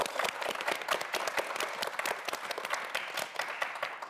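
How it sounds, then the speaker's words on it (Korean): A studio audience at a televised student quiz show gives a round of applause for a student contestant, many hands clapping in a brisk, even patter that holds steady and fairly soft for the whole stretch. "우리 민경환 학생에게 여러분 다시 한번 큰 박수 부탁드립니다."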